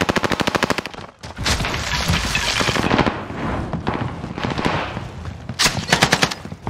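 Rapid automatic gunfire from an MG82 light machine gun in Call of Duty: Warzone, a loud steady stream of rounds at the start, then dense overlapping shots and impacts through the middle, ending in another close rattling burst.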